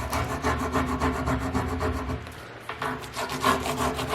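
Plastic burnishing stick rubbing a decor transfer onto a wooden blanket chest, rapid rhythmic scraping strokes, close and steady, with a short pause midway and no talking.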